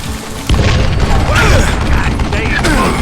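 A gun is reloaded in the Call of Juarez Gunslinger video game, with quick metallic clicks and mechanical clatter over a loud, busy shootout background.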